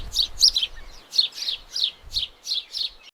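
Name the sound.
small birds chirping in the Amazon forest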